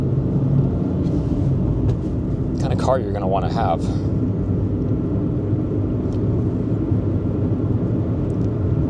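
A 1993 Toyota Corolla with 4WD and a 5-speed manual cruises down the road, its steady low engine and road rumble continuous throughout, with someone talking briefly over it midway.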